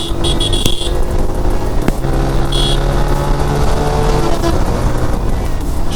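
An Apache RTR 160 motorcycle overtakes a bus on the road, its engine a loud, close, sustained drone with steady road and wind noise throughout.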